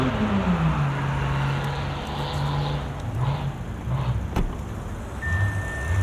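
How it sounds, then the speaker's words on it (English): A car doing a burnout somewhere outside a 2024 Genesis G90 cabin, heard as a steady rising-then-holding engine drone with a hiss of tire noise, fairly constant and muffled, with a brief sharp knock partway through. "Someone's doing a burnout."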